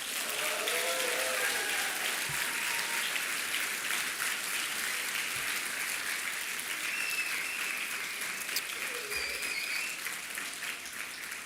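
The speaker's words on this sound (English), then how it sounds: "Can we please applaud them once more?" Sustained applause at a university commencement ceremony, a dense, even wash of many hands clapping at moderate distance, with faint voices and calls scattered through it, slowly thinning toward the end.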